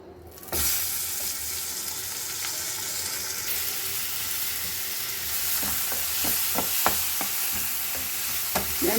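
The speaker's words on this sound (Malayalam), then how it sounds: "നമുക്ക് ഇതിലേക്ക് തക്കാളി ഒന്ന് വഴറ്റിയെടുക്കാം" Tomatoes sauté in oil in a pan with a steady, close sizzle that begins abruptly and holds throughout, broken by scattered clicks and scrapes of stirring.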